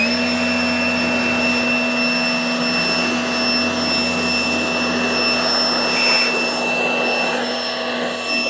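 A steady, loud electric blower or dryer whine runs continuously while a BMW E39 wagon is dried off after a wash, with a constant tonal hum and no talking.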